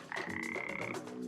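One long, steady, buzzing frog croak sounds up close, held for about a second.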